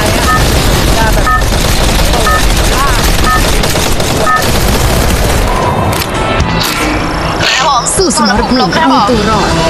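Free Fire game audio is dense and continuous, with booming shots and rapid bursts of gunfire that run throughout under steady voice chatter.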